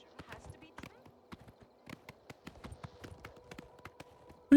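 Horse hooves in the video game Oblivion Remastered, a steady run of clip-clop footfalls at an even trot, moderately close, with quiet in-game ambience behind.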